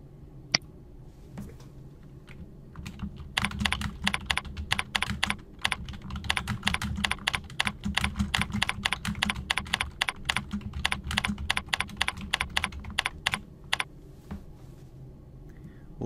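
Steady typing on a computer keyboard as a section title is entered: a dense run of close, crisp key clicks in quick irregular bursts, with brief pauses, before a few final taps.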